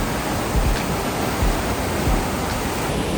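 The Düden waterfall in Antalya roars as a steady, dense rush of falling water, loud and close, with no voices over it.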